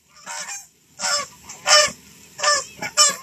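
Several loud goose honks come in quick bursts, irregularly spaced, as a flock calls from above with no talking.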